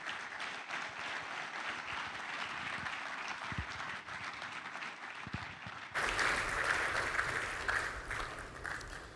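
A crowd applauds warmly as a speaker is welcomed onto a stage at a June 2024 special-edition democracy event, steady clapping that swells louder and brighter partway through, with no speech over it.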